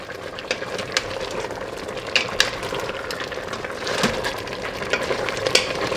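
Beef caldereta seasoned with salt and ground black pepper is stirred in an Instant Pot. A steady bubbling sizzle runs throughout, broken by scattered clicks and scrapes of the spoon.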